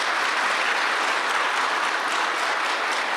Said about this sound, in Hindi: उसके लिए भी जोर से ताली बजाएं